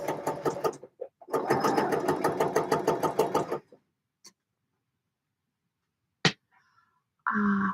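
A sewing machine stitches a jacket collar in two close, rapid bursts of rhythmic needle clatter, the second running about two seconds, followed by scattered quiet clicks and a brief louder clunk.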